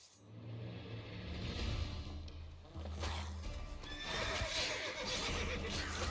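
Roach the horse in the Witcher 3 video game, a close loud neigh and whinny over clip-clopping hooves, with galloping and rumbling movement continuing throughout.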